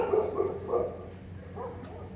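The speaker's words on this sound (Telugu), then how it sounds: "అండ్ సో స్ట్రీట్ మొత్తం కారు కుక్కలు చూడండి ఒకసారి" Large stray dogs bark on a street at night, a few close, mid-loud woofs in quick succession followed by quieter, more distant yips.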